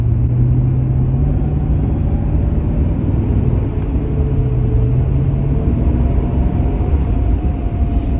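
A 1975 Mercedes 450 SEL 6.9 V8 pulls steadily under load, its deep engine rumble heard from inside the cabin with a slowly rising tone, continuous and fairly loud with no talking.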